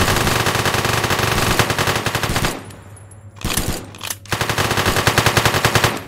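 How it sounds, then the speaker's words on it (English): Automatic gunfire in a video game shootout during a heist, with loud, rapid sustained bursts, a brief lull in the middle, then renewed rapid firing, close and dominant, with no talking. "I'm shooting him."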